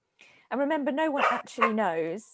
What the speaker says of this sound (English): Sorry, the slight interruption there from my dog.